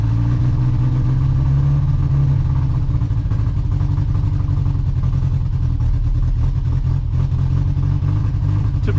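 A car engine idles steadily after a cold start below 20 degrees, with a low, slightly uneven rumble, running continuously and close without any talking.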